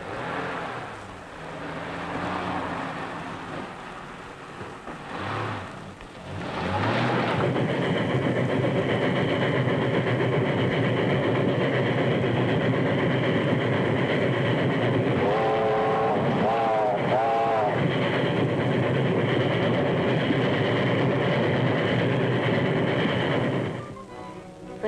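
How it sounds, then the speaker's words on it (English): A train rumbles past in a steady, loud roar with mechanical clatter, briefly joined by a wavering whistle-like tone midway, in a 1937 film scene. "That's the train."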